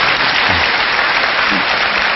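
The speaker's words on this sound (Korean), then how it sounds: "박수 한번 부탁드립니다" A studio audience at a Korean lecture show claps together in sustained, loud, even applause with no pauses, filling the whole moment.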